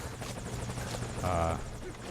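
A helicopter in Metal Gear Solid V: Ground Zeroes gives off a steady, throbbing rotor drone, held at a moderate distance.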